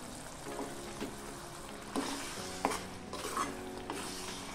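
Tomato paste and turmeric stirred into mutton keema sizzling in a pan for a kofta curry, with a steady low fry hiss and a few spoon scrapes and knocks against the pan, close and moderately quiet.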